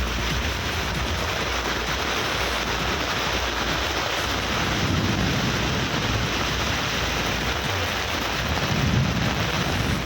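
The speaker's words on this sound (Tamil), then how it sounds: "1 மணி நேரத்திற்கு மேலாக இடி மின்னலுடன் மழை கொட்டி தீர்த்ததால்" Heavy rain pours steadily during a thunderstorm in Madurai, Tamil Nadu, a loud continuous roar with low rumbles of thunder rolling beneath it throughout.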